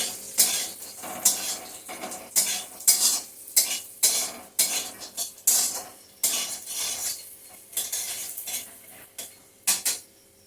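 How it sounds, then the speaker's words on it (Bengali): Cashews and raisins frying in a wok, with a metal spatula scraping and clattering in rapid, irregular strokes over a soft sizzle, loud and close, with no talk. "এখন বন্ধুরা কাজু কিশমিশ এগুলিও ভেজে তুলে নিলাম"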